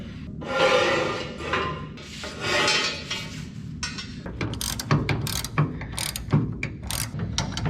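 Ratchets and wrenches clatter while work is done on a 1930 Model A hot rod, with two long bursts of rapid ratcheting and then a string of sharp metallic clinks and taps, close and fairly loud.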